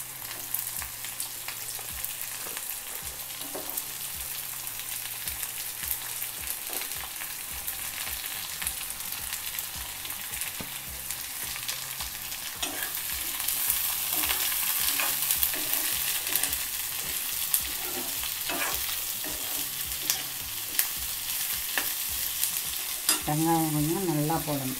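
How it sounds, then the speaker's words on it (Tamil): Garlic and onion fry in a pan with steady close sizzling, a continuous crackling hiss that grows a little louder midway, punctuated by repeated scraping and stirring strokes of a spatula, with no talk. "பூண்டு நல்லா பொரிஞ்சிருச்சு. இப்போ வெங்காயம் போடணும்."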